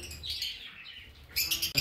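Pet cockatiels and lovebirds chirping in a shop, bright repeated tweets and calls rising into a louder burst of close chirps toward the end, with no talk.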